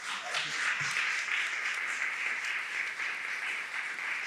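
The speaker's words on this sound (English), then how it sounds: "So let's give them another round of applause." An audience at a community reading event in New Rochelle applauds the actors, a steady wash of clapping heard from a distance and without talk.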